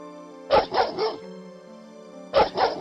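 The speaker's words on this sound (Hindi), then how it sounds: "ये हमारे पालतू कुत्ते हैं।" Pet dogs bark in two quick bursts of several close, loud barks, separated by a short quiet pause with a low hum underneath.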